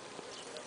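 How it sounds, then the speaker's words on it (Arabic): Honeybees fanning their wings at the hive entrance, a continuous dense buzzing hum, close and steady, heard alone for a brief moment. "إذا أنتم تلاحظون معي النحل يقوم بعملية الفرفرة أو عملية الرفرفة"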